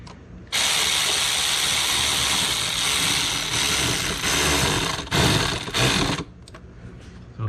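A ratcheting tool with a 5/16 socket works on a 2006 Dodge Ram 1500 during a spark plug and coil job, giving a loud, continuous whirring ratchet for about six seconds, with a couple of short pauses near the end and no talk.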